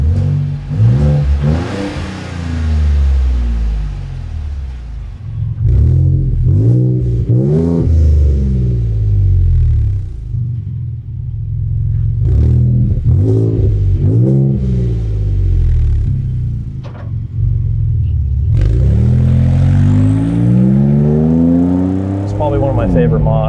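A Ford F-150 Raptor fitted with Stainless Works downpipes and exhaust revs hard several times, each burst rising and falling in pitch over a deep rumble, with someone talking between the revs.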